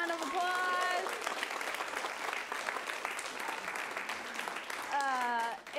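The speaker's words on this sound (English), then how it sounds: "let's give him a round of applause" Audience applause at a tenth-anniversary reunion show, a steady wash of clapping lasting several seconds, with a voice talking briefly at the start and again near the end.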